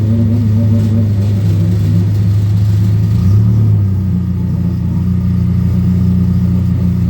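Loud Legends race car engines rumble and drone steadily at a race night, with a pitch shift midway as one revs, no voices over the continuous engine noise.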